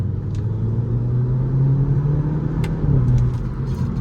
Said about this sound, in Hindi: हल्के हल्के से DSG फाट आ रहे हैं हमारे, ज़्यादा DSG फाट भी नहीं है।